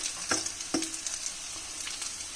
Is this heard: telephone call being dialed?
no